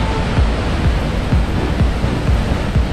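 Roaring water at Huka Falls, New Zealand, produces a loud, dense, continuous rush heard up close, with some low buffeting from wind on the microphone and no speech.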